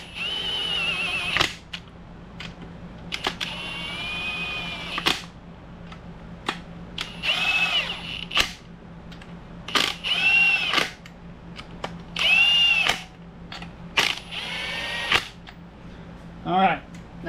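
A power drill on a low setting runs in repeated short bursts, easing down 17 mm bolts during reassembly of a 1998 Ford Ranger 4R44E automatic transmission; a steady hum sits underneath between the bursts.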